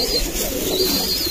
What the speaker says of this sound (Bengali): আমার ভালোবাসার কবুতর গুলা